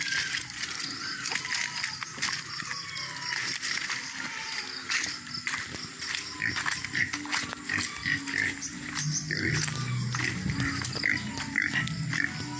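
A pig grunting and snuffling repeatedly at close range, with rustling and shuffling movement around it and no talking.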